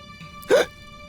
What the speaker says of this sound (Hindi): हिचकी बंद हो गई ना?